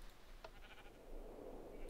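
A sheep bleats in a modded Minecraft sheep farm fitted with deployers that shear the animals, a faint short cry over a low, steady game background with no one talking.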